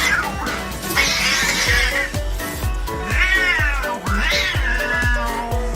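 Cats screech and yowl at each other in loud, rising wails, with rhythmic thumping and scuffling underneath throughout.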